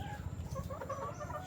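Hens clucking in a breeding pen of gamefowl, gray and golden hens kept with a white Kelso broodcock; soft, overlapping clucks from several birds close by, steady and continuous with no talking.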